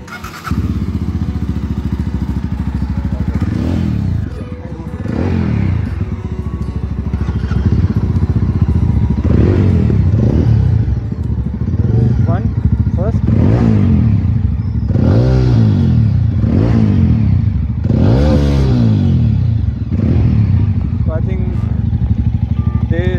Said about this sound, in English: can we just listen to the sound of XT exhaust and this exhaust?